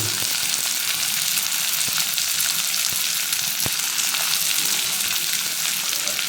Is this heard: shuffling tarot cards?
no